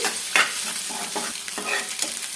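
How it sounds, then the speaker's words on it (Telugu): Egg frying in a pan over a high flame, with a continuous close sizzle and brisk stirring scrapes repeated through the short stretch, and no one speaking. "ఇప్పుడు ఇందులోకి ఎగ్కు సరిపడినంత సాల్ట్ వేసేసుకొని ఫ్రై చేసుకోవాలి"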